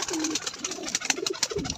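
A pigeon coos softly beside its young chick, a few low rolling calls close by over a hiss of background noise.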